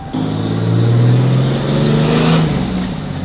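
A third-generation Cummins diesel pickup truck with an exhaust brake and a large turbo over the stock one, a loud, close, sustained low engine drone with rising and falling pitch and a hissing whine on top.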